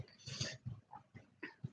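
A small puppy makes soft snuffling, breathy grunts and little whimpering noises in short irregular bursts, close but faint, with no talking.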